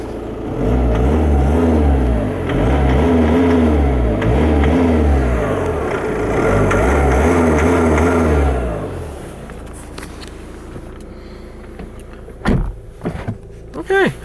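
A 2016 Volkswagen CC diesel engine revs loudly outside the car in long sustained pulls for about nine seconds, then drops to a quieter idle with a few brief knocks and clicks near the end.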